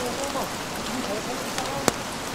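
Steady rain falling during a mountain hike through fog on the trail toward Surya Kencana on Mount Gede Pangrango, a soft continuous hiss with a couple of brief drip-like ticks, fairly close and even.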